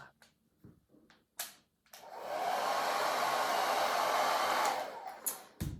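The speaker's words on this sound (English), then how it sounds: "I'm going to use a blow dryer right now" A blow dryer runs for about three seconds while drying yak hair, a loud, close, steady whoosh between brief clicks and handling noises.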